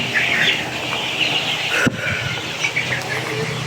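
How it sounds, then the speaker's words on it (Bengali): Sonali chickens cluck and chirp inside a crowded farm shed, many birds murmuring at once with a sharp knock midway. "আপনাদের মুরগিগুলো দেখাচ্ছি।"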